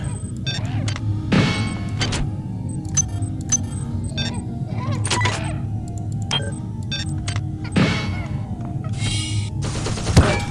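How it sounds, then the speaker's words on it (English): Automated turrets in System Shock 2 fire in repeated sharp bursts, loud rattling volleys punctuating a low ambient hum, with several distinct clusters of shots spread across the stretch. "What is shooting me? There's turrets down there."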